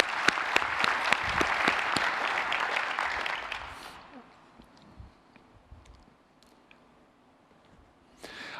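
Audience applause at a geophysics society's annual honors and awards ceremony in New Orleans, sharp claps over a crowd wash that fades out after about four seconds, leaving a quiet room before a brief swell at the end.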